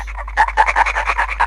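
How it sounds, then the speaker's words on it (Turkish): A dog panting rapidly in quick, rhythmic breaths, close by, with no voices. "Bu bir köpek sesi."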